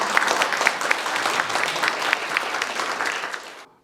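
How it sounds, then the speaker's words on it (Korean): Audience applause at the 2020 Park Kyung-ni Literary Prize award ceremony, a dense, steady burst of many hands clapping close by for nearly four seconds before stopping abruptly. "감사 인사와 박수를."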